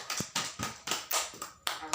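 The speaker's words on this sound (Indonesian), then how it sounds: "Mari kita berikan aplaus yang meriah." Classroom applause: a sparse, uneven round of handclaps, about eight distinct claps in two seconds, fairly close and moderately quiet, with no talking.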